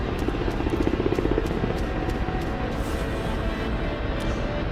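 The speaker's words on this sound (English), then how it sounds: "Alright, slow down, helicopter." A Black Shark attack helicopter in a combat flight game gives a loud, continuous rotor-and-turbine drone with a steady rhythmic chop, unbroken from start to finish.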